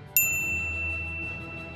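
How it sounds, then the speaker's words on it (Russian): A single bright notification bell ding strikes sharply and rings out with a long, clear metallic decay over a quiet background, with no talking. "жмите на колокольчик"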